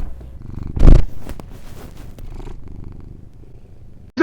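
A fat cat purrs close into a tiny microphone, a steady low rumble with a sharp bump of handling noise near the start and a brief cutoff at the end.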